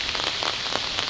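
Steady rain falling on a surface, a dense close patter of drops without pause.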